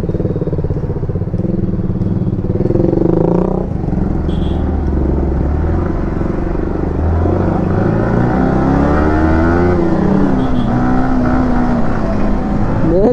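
A motorcycle accelerates through heavy city traffic, its engine note rising and falling close to the rider, with surrounding vehicle noise and a continuous loud rumble throughout.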